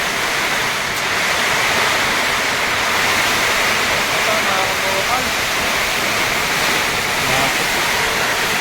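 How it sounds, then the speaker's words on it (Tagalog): Heavy, steady rushing water noise as rainwater pours into a room, a continuous loud hiss with a person speaking briefly over it. "Pumapasok yung tubig."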